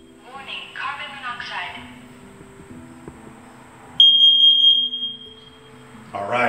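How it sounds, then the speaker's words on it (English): A carbon monoxide detector's high electronic alarm tone cuts in and holds steady for about a second, loud and close, following a stretch of voices talking. "our carbon monoxide detector is working as well"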